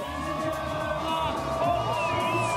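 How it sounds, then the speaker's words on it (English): A home crowd at the LAAX Open snowboarding halfpipe finals cheers and whoops in a sustained roar, with a commentator talking over it and a siren-like horn rising at times. "So the home crowd really enjoying having someone to cheer on."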